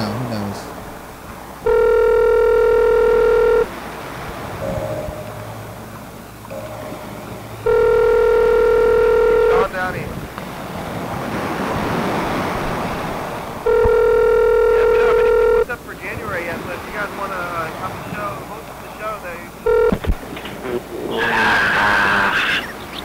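Repeated telephone dialing tones and electronic ringing, in three or four bursts of a couple of seconds each, made while trying to reach a caller on a live broadcast. People talk and laugh between and under the rings.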